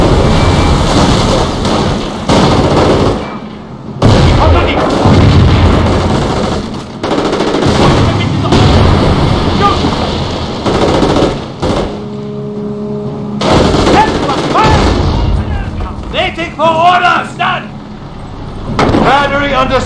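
Small-arms and machine-gun fire in a Company of Heroes battle: loud, sustained rattling bursts with a few short gaps, mixed with vehicle rumble and explosions, and shouted voices of soldiers heard near the end.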